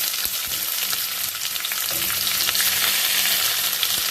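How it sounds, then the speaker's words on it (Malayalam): Crushed small shallots sautéing in hot oil in a pan for a Thrissur-style beef and plantain dish, a loud, dense, continuous sizzle with occasional stirring scrapes, close up and with no voices. "നമുക്കിതിനെ നന്നായിട്ട് വഴറ്റിയെടുക്കാം"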